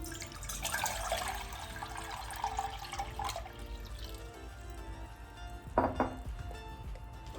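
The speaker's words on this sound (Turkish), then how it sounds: "onun için bir litre kadar su koyuyorum" Water pours and splashes into a metal pot meant for cranberries, close and fairly faint, with a few clinks of the pot near the end and no talking.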